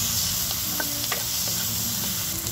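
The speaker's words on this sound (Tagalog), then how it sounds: "Pwede na natin isunod yung ating hotdog." Hotdog pieces fry in a pan with tomato and a splash of fish sauce for ginisang monggo, giving a steady close sizzle with a few soft stirring clicks and no talk.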